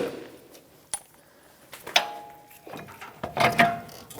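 Metallic clicks and clanks from a 32mm socket and ratchet working loose the front CV axle nut on a 2008-2013 Nissan Rogue, a few sharp close knocks and rattles over low background, no talking.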